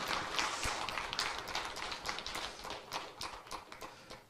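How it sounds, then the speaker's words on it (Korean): Congregation clapping at a church anniversary thanksgiving service, a dense patter of many hands spread steadily through the room, moderately loud and continuous without talk over it. "박수 한번 합시다"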